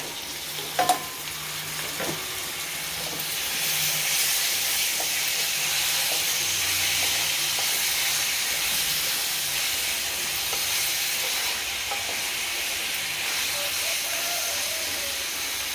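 Small chicken pieces sizzling and frying in a pan for gongura chicken, a steady broad hiss with faint stirring clicks near the start, continuous and fairly close with no talk.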